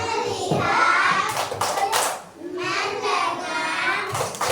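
Children clapping in rhythm during a classroom clap chant, short bursts of hand claps alternating with pauses, close and fairly loud, with children's voices chanting and a teacher speaking between claps.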